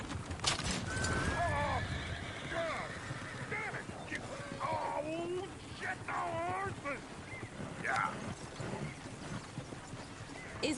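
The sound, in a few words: horse neighing in Red Dead Redemption 2 video game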